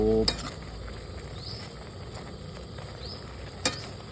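Holy basil stir-fried for pad kaprao in a pan, a steady close sizzle with occasional scrapes and clanks of the utensil against the pan.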